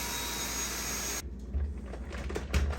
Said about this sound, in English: Now here's what I'm talking about when it comes to the vacuum attachment. I just have my regular Dyson cordless